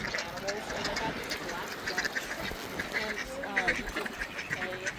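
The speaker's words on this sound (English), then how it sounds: "went and fed these little ducks" Ducks being fed oats quack and chatter continuously in a loose, overlapping flock, fairly faint, with people talking softly among them.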